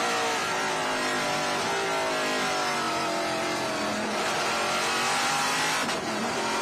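Trans Am race cars roar through the Bennett S's at the BridgeHaul Classic, a continuous loud blend of several engines revving and shifting as the pack passes, with a brief tire squeal near the end and no voices.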